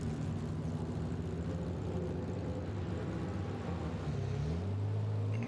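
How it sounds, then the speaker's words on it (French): Porsche 906 Carrera 6 race car pulling away from the pits at the Le Mans Classic, a faint, steady engine rumble with a rising pitch near the end as the car gets going. "La Porsche 906 Carrera 6 de Romain Rocher qui vient de repartir des stands."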